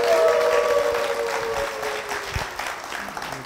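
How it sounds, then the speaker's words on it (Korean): Applause from a church audience welcoming two young brothers, a first grader and a fifth grader, onto a televised program; a broad, steady wash of clapping that slowly fades, with a brief voice at the start. "박수로 맞아주십시오"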